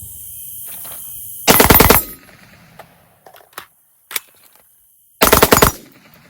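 Two short, loud bursts of rapid gunfire come from a rifle fitted with an Atrius forced reset selector, separated by a quiet gap with a few faint clinks and clicks.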